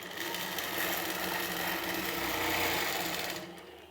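Close and steady, a sewing machine quilts a T-shirt pillow, running for about three and a half seconds with a fast, even stitching hum before stopping.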